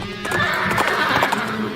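A horse neighs loudly in a shrill, wavering whinny over a quick clip-clop of hooves, close and clear, a short sound effect with no talk.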